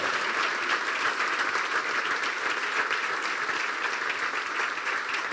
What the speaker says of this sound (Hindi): यीशु के जलाल के लिए जोरदार तालियां बजा दें